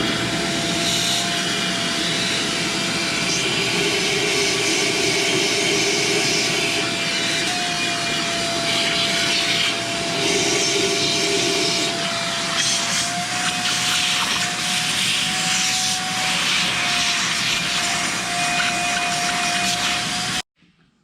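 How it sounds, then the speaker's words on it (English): A vacuum cleaner runs steadily for about twenty seconds, sucking up powdery shavings during a quick-change rear-end spool replacement on a Winters unit, a loud continuous whine with a slowly shifting pitch, then cutting off abruptly. "I think I'm gonna grab my vacuum cleaner and suck some of that up"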